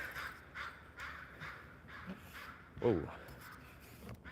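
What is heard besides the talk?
crows cawing in forest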